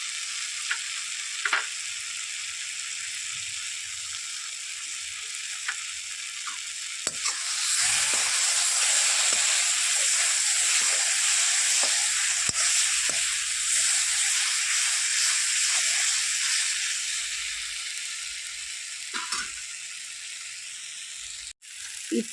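Tomato gravy sizzles steadily in a pan while a ladle stirs through it, a continuous close frying hiss that swells louder midway with occasional soft scrapes and knocks.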